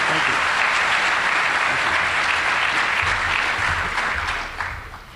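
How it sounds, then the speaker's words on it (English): Loud, sustained applause fills the room as an audience at an awards-of-excellence ceremony claps for honored innovators, dense and steady before tapering off toward the end. "I think it's important that we give our innovators another round of applause."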